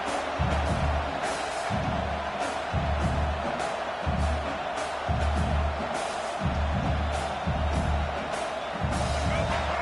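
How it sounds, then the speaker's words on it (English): Roaring crowd at a UCLA college football game, a broad sustained din punctuated by rhythmic low thumps like stamping or drumming, with cheers and whoops rising at times. "this crowd trying to help keep them there"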